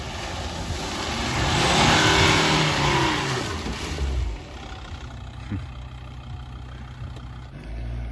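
A car drives along a muddy gravel road, its engine droning and building steadily while the tyres rumble and crunch underneath, then the roar eases into a lower steady run, close and continuous.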